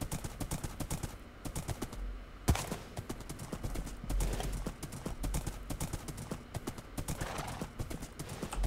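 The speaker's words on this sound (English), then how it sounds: "So I have to use a horse for this if I don't want to walk" Horse hooves clip-clop steadily in Minecraft, a continuous run of quick, evenly spaced clops up close, with a few louder thumps and an occasional whinny-like accent.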